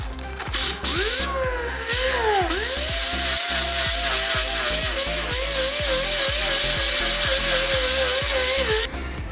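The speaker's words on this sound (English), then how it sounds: "Let's get to sanding off that rust." A power sander whines close up, sanding rust off a car bumper, its pitch wavering up and down over rapid rhythmic clicking and grinding.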